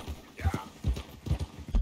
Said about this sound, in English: I have no idea why that horse suddenly is here.